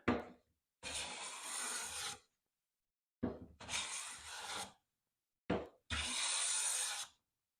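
Veritas smoothing plane drawn over wood taking full-width shavings, three long rasping strokes each lasting about a second and a half, each preceded by a short scrape, close and clear with no talk.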